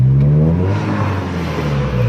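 A Honda car with a loud aftermarket muffler exhaust, a close, loud engine drone that swells and holds with a steady low rasp, brief and without talk.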